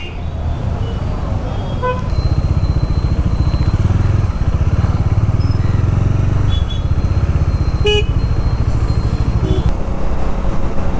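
A Bajaj Dominar 400 motorcycle pulls away and rides off, its steady engine drone rising into a continuous low rumble, with a few horn toots from surrounding traffic.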